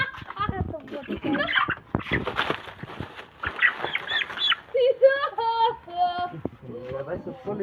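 Chickens squawk at night in loud, harsh bursts mixed with people talking close by.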